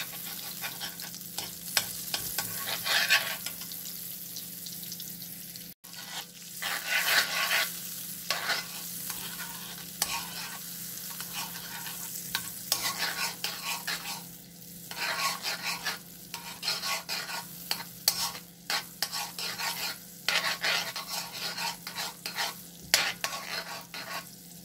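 Mixed vegetables sizzle in melted butter in a pan, a loud continuous frying hiss with repeated scraping and stirring strokes throughout, no one speaking.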